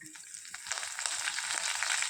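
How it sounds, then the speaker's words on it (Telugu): Tempering spices for a roasted brinjal chutney — urad dal, chana dal, cumin, mustard seeds and dried red chillies — frying in hot oil in a pan, a steady close sizzle with crackling pops building louder over two seconds. "మినపప్పు, శనగపప్పు, జీలకర్ర, ఆవాలు, ఎండుమిర్చి ఇవి కొద్దిగా వేయించుకుందాము"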